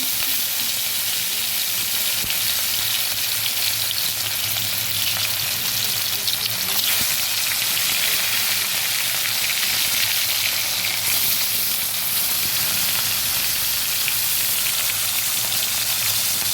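Katla fish pieces frying in hot oil in a wok, a dense continuous hiss and sizzle, loud and close, holding steady throughout.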